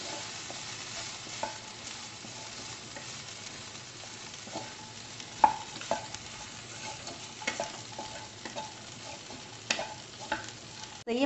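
Tomato-flavoured popcorn is stirred and fried in a pan, giving a steady low sizzle with scattered scraping taps from the spoon throughout, fairly quiet and without any talk.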